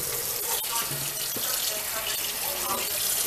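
Tap water runs steadily over frozen green baby lima beans being rinsed in a sink, a continuous loud broadband splash for the whole stretch.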